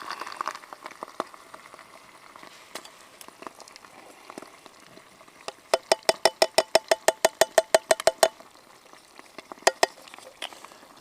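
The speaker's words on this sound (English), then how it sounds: "Give it a stir." A pot of mixed cannellini, borlotti and red kidney beans is stirred over a Trangia stove at a woodland wild camp: soft scraping and gentle bubbling, followed by a quick run of sharp, regular metallic taps on the pot.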